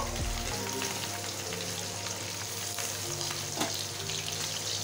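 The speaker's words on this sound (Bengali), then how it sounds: "মাছগুলো একটু ভালো করে লাল করে ভেজে নেব।" Fish sizzles steadily in hot oil in a wok, a continuous close crackling fry with a few brief stirring clatters and no talk.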